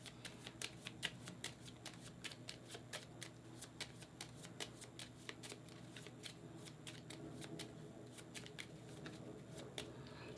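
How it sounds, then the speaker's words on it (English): Foxpaw student cards being shuffled by hand at close range, a rapid run of crisp riffling flicks and snaps repeating in bursts, quiet and alone without talk. "Now shuffle the student cards and deal 2 to each player."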